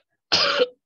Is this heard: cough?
yes